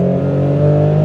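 Toyota Supra with a manual gearbox, engine humming loud and close in a steady, even drone from inside the car.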